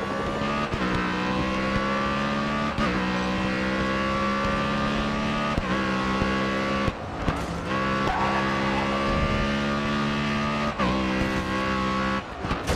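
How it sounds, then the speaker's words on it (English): A race car in the video game Grid Autosport, its engine droning loudly with repeated upshifts, broken by tire squeal as it brakes and skids through corners, close and continuous throughout. "Hard on the brakes, heavy on the brakes."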